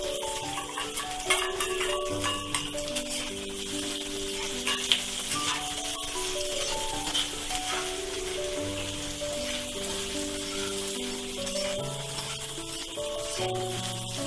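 Onion, green chili and garlic fry in hot oil for a Maharashtrian shepu (dill) bhaji, a steady close sizzle with occasional stirring scrapes running throughout under a melodic background track.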